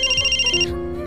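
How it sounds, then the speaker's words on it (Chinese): A mobile phone ringtone goes off from a man's pocket, a bright repeating electronic melody that plays loud and close for about a second with no voices over it. "他口袋里的手机却突然响了起来"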